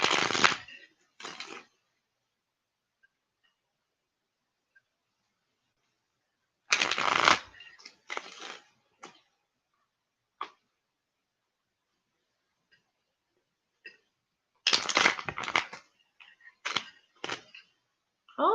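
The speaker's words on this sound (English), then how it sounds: "so the Ten of Spades wanted to pop out as I shuffle" A deck of tarot cards is shuffled in several crisp riffling bursts separated by long silent gaps. The bursts are close and moderately loud, with a few lighter card taps between them and no talking.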